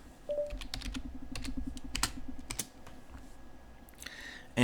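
Rapid keystrokes on a computer keyboard as a Linux swap command is typed, a dense run of clicky taps with brief pauses, close and fairly loud, ending in a heavier clack.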